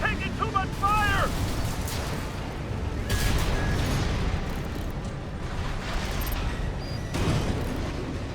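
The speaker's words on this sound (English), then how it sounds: "We're taking too much fire!" Gunfire and explosions from the Armored Core VI: Fires of Rubicon video game form a dense, loud, continuous barrage of booms and blasts, with game voices and radio chatter layered over it.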